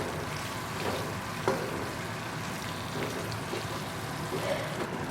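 Kadai chicken with chopped spring onion gets stirred in a hot pan, a soft steady sizzle with faint scraping stir strokes throughout, fairly quiet and close.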